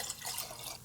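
Apple cider vinegar pours into a jar in a short, steady trickle of liquid, close by and fairly quiet, ending with a brief louder knock.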